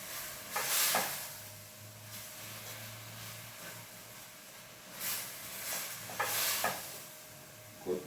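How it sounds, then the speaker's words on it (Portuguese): Chicken and onion cook in a pan for a homemade chicken pie filling, with a spoon scraping the browned bits off the bottom in a few short bursts over a steady soft sizzle, close and fairly quiet, no talking. "você vai raspando o fundinho aqui da panela, onde o frango pegou"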